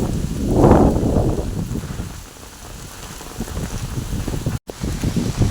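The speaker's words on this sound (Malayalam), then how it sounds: "നല്ല കാറ്റും മഴയാണ്." Strong wind gusts and steady rain by a swollen river, a loud continuous roar that swells early, eases, then builds again, with a brief dropout near the end.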